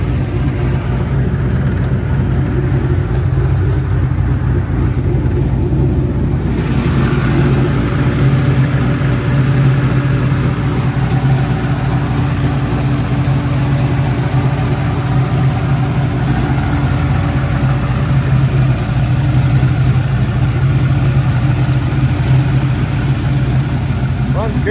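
An 800HP turbocharged Ford Foxbody Mustang engine runs continuously with a loud, deep, lumpy idle, close by, steady throughout with little change in pitch.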